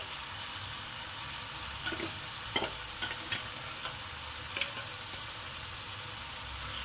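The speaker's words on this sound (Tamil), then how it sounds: "இப்போ நான் எடுத்து வச்சுருக்கிற ப்ரானை சேர்த்துக்க போகிறேன்" Prawns fry in a pan with a steady, close hiss of sizzling oil, broken by a few faint stirring clicks.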